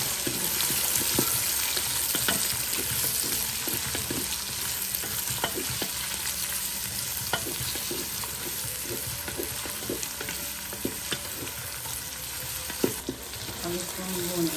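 Chopped onions frying in a pan for a turnip and beef curry, a steady dense sizzle with scattered stirring clicks and scrapes throughout, close and continuous.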